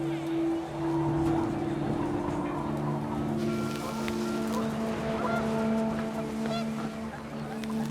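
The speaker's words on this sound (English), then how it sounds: "panicked geese appeared and quickly went" Panicked geese honk in the video game What Remains of Edith Finch, a cluster of calls over rising wind and a steady low drone, with a voice speaking throughout.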